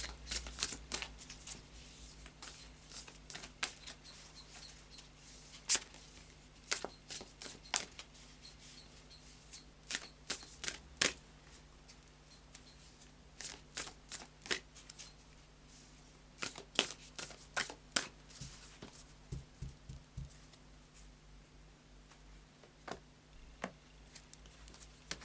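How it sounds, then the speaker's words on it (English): Tarot cards being shuffled in repeated quick riffling bursts, crisp and close, with short pauses between shuffles and no talking. "I'm just looking as I'm shuffling"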